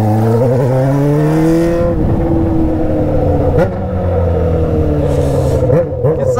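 A Honda Hornet motorcycle ridden on a drizzly road, its engine droning steadily and loud close up, with revs rising and dropping through gear changes and wind rumble throughout.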